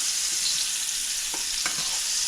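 Muscovy duck breast searing in its own rendered fat in a hot pan, a steady close sizzle and crackle with a couple of brief louder spits, no talking.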